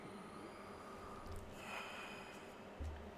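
A character in the video game Red Dead Redemption 2 takes slow, audible breaths for a doctor's examination, a couple of soft inhales and exhales over a quiet steady background.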